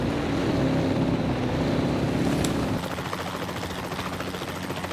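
Helicopters flying over a forest edge during a dinosaur roundup give a steady, loud rotor drone and engine rumble that fills the whole span, shifting to a slightly thinner whir partway through, with wind buffeting.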